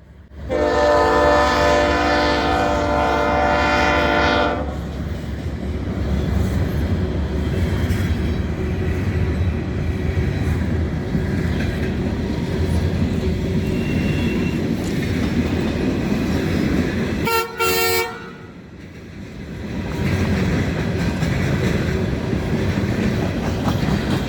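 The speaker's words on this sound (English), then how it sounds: "This one happens to be an empty coal train." An empty coal train passes in Elkhart, Indiana: a loud, sustained horn blast opens, then a continuous rolling rumble and clatter of wagons, with a brief sharp burst partway through.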